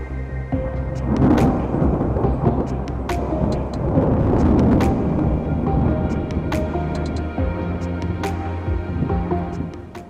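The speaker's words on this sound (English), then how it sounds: "We had a thunderstorm this week, kind of like the one that's trying to come out of the sky right now." Thunderstorm in the Colorado mountains in spring, with deep rolling thunder rumbling continuously throughout, mixed with rain and some wind noise on the microphone, and scattered sharp crackles and drops standing out above the low roar.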